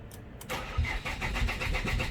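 A car engine cranks and catches after a brief quiet moment, then settles into a steady, close rumbling idle for the rest of the stretch.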